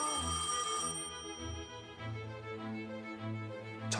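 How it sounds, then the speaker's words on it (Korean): A telephone bell rings for an incoming call to the Korean Language Society office in 1945, a bright sustained ringing tone with harmonics, loud and close, with no talk over it. "조선어 학회 사무실로 한 통의 전화가 걸려옵니다."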